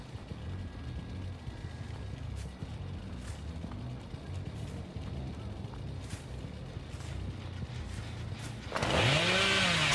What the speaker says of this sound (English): use chainsaw and face the other way to try get a sneak attack